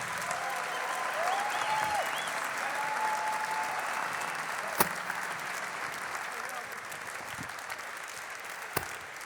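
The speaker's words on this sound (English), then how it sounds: "a big round of applause to Cloud9." A large esports crowd at the ASUS ROG DreamLeague Season 1 Dota 2 grand final applauds continuously, a broad roar of clapping with a few cheers and sharp knocks rising out of it.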